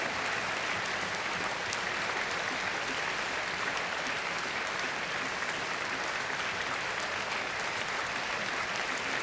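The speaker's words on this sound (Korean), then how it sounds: "여러분 큰 박수로 환영하시지요" A church congregation claps in welcome, a steady, dense wash of many hands applauding at moderate level without a break and with no talking over it.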